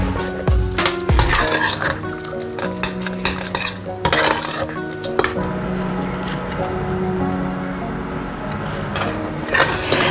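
Rice poured from cooking bags into milk in a pot and stirred, with rustling, pouring and wet stirring, utensil clatter against the pot, and a steady bubbling hiss, close and fairly loud.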